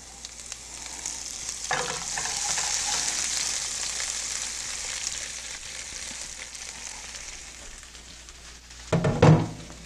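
Shredded cabbage fries over low heat in a pan with mustard seeds and cumin, giving a steady soft sizzle throughout. A louder burst of stirring and scraping comes near the end, and no one speaks.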